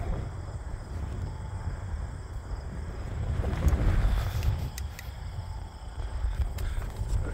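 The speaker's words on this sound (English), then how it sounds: "Wind's coming straight out of the west. And say 30 to 40 km/h gusts." Strong gusty west wind of about 30 to 40 km/h buffets an outdoor microphone at an RC jet flying field, producing a continuous low rumbling roar that swells and eases in gusts.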